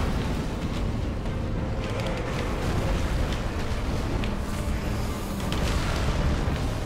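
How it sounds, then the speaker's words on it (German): A deep, continuous rumbling roar of an explosion in the video game Dark Souls 3, like a large blast or raging fire, steady and loud throughout with no voices. "Wow, das ist eine Explosion"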